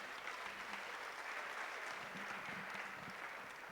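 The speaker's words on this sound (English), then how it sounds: "Shall we give seekers another round of applause?" A crowd claps for performers at a university night event, a fairly faint, distant-sounding sustained applause with a faint low voice murmuring beneath.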